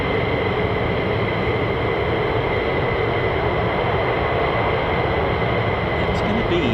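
F-15 and F-35 fighter jets taxiing along a taxiway at RAF Lakenheath, a steady, loud engine roar and whine holding constant throughout with no breaks.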